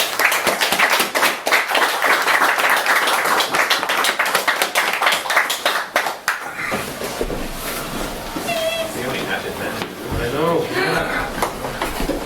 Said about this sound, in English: Mick Lacey, come up and give us a applause